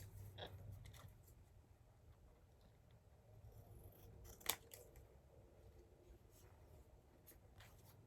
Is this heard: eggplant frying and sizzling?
no